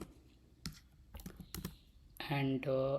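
Keystrokes on a computer keyboard tap out a short command in sparse, uneven clicks, then a brief burst of tonal chimes or music closes the clip.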